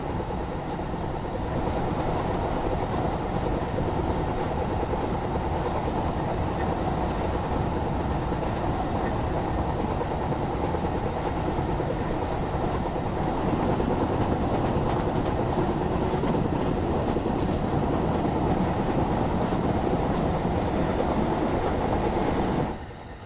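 Train rumbling along in a simulator game, a continuous steady roar with faint clickety-clack from the rails, constant and loud throughout before cutting off at the end.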